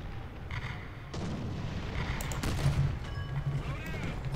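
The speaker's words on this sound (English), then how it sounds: "Oh, artillery fire, okay." Distant artillery fire booms in the War Thunder battle, with dull thuds and rumbles over steady engine noise and a voice talking.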